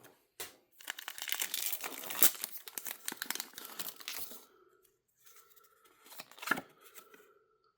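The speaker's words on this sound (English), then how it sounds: "I am still using the old knife to open the packs up here" Crinkling foil wrapper of a Pokemon 151 card booster pack being slit open with an old knife, a burst of close tearing and crackling for several seconds, then quieter rustles and a sharp crinkle near the end.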